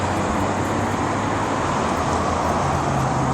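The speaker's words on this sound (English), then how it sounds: "And just lots more cars coming off that ferry." Steady broadband vehicle rumble at a ferry dock in the Port Orchard area as cars drive off the ferry, a continuous low drone with no distinct pass-bys and no talk.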